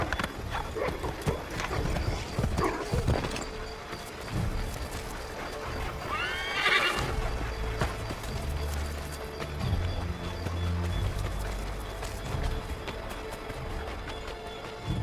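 Horse whinnying and clip-clopping hooves in Assassin's Creed III Remastered, with a clear neigh midway over a steady bed of game ambience and hoofbeats throughout.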